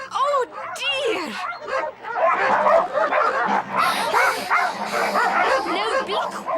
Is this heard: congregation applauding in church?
no